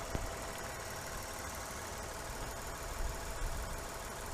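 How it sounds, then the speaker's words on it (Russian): A Toyota Brevis 3-litre six-cylinder engine idles under the open hood, a faint, even, steady running hum with no talk. "Вот он, наш 3-литровый, 6-цилиндровый мотор."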